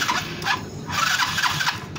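A Mio Sporty motorcycle engine, with the throttle cable not yet fitted, cranks and catches in a brief start, sputtering in short uneven bursts close to the listener.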